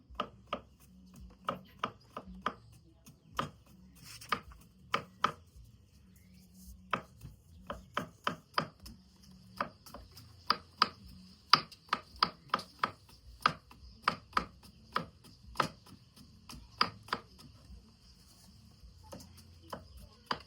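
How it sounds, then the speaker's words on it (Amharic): A knife taps rapidly on a cutting board, sharp chops coming in quick irregular bursts with short pauses, close and crisp in a quiet room. "እቺ ነገር ስትከትፉ ደግሞ ደቀቅ አድርጋችሁ መክተፍ አለባችሁ።"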